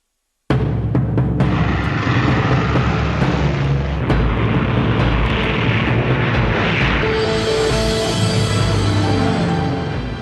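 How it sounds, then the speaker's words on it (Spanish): Military aircraft over Cairo during the Suez Crisis, heard as a loud, sustained roar with rumbling low booms and crackling bursts, the noise swelling and shifting toward a hissing jet whine before easing slightly at the end. "Poco después, Nasser oye aviones sobrevolando El Cairo."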